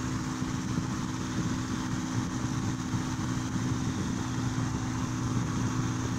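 A small homemade 12V DC fan runs at full speed, giving a steady, even motor hum with airy whoosh throughout and no talking.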